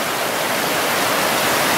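River water rushing through the Tolmin gorge in Slovenia, a loud, steady, broadband roar of flowing water with no pauses, heard alone.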